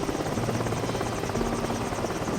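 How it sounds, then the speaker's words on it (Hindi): A cartoon magic helicopter circles over a house, its steady, dense rotor drone filling the scene loudly and continuously, with no speech. "अपने जादुई हेलीकॉप्टर से वो उसके घर के ऊपर घूमने लगता है"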